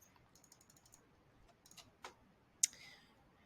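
Light, scattered keyboard clicks, a quick run of taps followed by a few sharper isolated clacks, close by in a quiet room.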